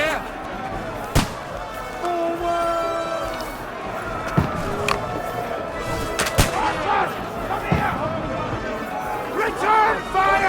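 Battlefield gunfire in the Kingdom Come Deliverance 2 video game, with sharp shots cracking at irregular intervals among louder blasts, over constant shouting voices and background battle clamor.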